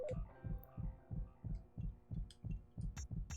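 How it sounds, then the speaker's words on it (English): A heartbeat warning of a nearby enemy in the video game Fear Effect thumps steadily and loudly, a double-beat pulse repeating about every half second across the clip with a low hum beneath. "when you start hearing the heartbeat like this out of nowhere and you don't see anybody"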